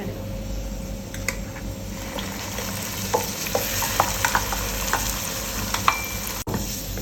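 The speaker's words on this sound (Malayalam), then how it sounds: "അത് കഴിഞ്ഞിട്ട് നമ്മൾ അരച്ചു വെച്ച തേങ്ങയാണ് ആഡ് ചെയ്യുന്നത്." Ground coconut paste stirred into fried onions for Kerala kaalan, a close, steady sizzle under repeated spoon scrapes and light clicks against the pan, a few sharper taps toward the end, no voices.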